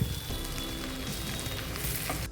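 Moringa leaves fry and sizzle in a pan over a low flame for a Telugu-style moringa fry, with a steady close crackle and faint stirring scrapes and no talk.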